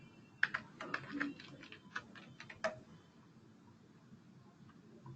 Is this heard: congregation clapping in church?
no